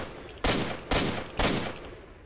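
Three loud, evenly spaced gunshots ring out in the video game S.T.A.L.K.E.R. Shadow of Chernobyl, each a sharp crack with a short decaying tail, with no talking over them.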